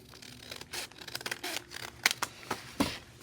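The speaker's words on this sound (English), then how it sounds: "So I'm going to go ahead and trim it right from here." Scissors trimming paper for a junk journal signature, several quick close snips and paper rustles in irregular rhythm, fairly quiet with no talking.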